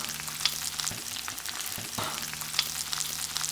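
Ground allspice, Mexican oregano and coarse black pepper fry in oil in a skillet, giving a steady close sizzle with a couple of brief stirring scrapes and no voices.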